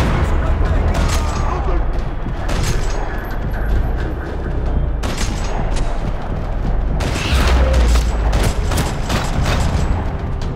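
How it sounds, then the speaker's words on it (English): Rapid bursts of gunfire in the video game Max Payne 3 crackle and boom in repeated volleys in a parking lot, loud and close, with heavy thuds between and brief voices mixed in. "Another parking lot rattling with gunfire."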